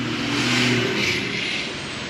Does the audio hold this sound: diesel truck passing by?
yes